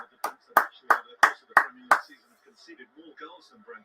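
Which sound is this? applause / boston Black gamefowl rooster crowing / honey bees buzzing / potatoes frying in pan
applause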